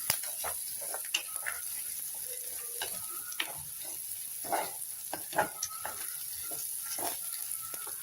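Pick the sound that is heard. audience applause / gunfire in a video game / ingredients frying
ingredients frying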